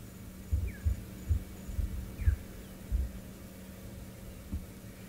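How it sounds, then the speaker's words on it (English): A lioness gives soft, low contact calls at a wildlife safari, a slow series of deep, muffled grunting pulses, fairly faint over a steady background hum, with no voices. "you can hear her just slowly kind of calling"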